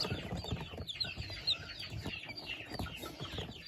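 Newly hatched chicks, Wyandotte among them, peep continuously in a brooder, a busy overlapping chorus of high cheeps at close range.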